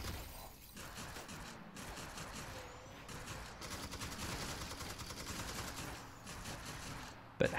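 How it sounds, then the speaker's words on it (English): Combine soldiers firing weapons in Half-Life: Alyx, a faint, dense stream of rapid gunshots and crackling impacts running steadily throughout, ending in a sharper hit. "having these guys shoot at Jeff's no good"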